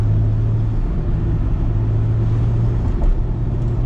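A Toyota Supra RZ-S engine drones loud and close inside the cabin on a Japanese road, a steady low hum with a slight dip and lift in pitch near the end, no voices over it.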